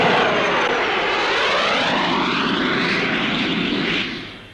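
A Jet Provost trainer aircraft flying a slow roll at an air show, a loud continuous jet roar sweeping in pitch as it passes, then fading away at the end.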